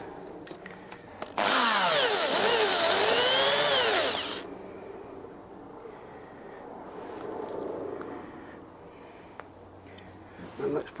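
A blunt power drill bores into a part from a Yamaha XJ900S motorcycle, giving one loud, shrill whining burst of about three seconds that rises and falls in pitch, then fades into quieter workshop background.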